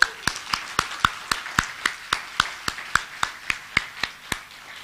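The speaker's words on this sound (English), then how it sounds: "Can we just get another round of applause, please?" Steady, rhythmic clapping at a graduation ceremony for the class of 2021: close, crisp claps about four per second in an even beat that lasts the whole stretch, with no voices.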